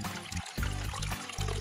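Water running steadily into a hot tub after the pump is primed, a continuous pouring gush with brief dips and surges, fairly close.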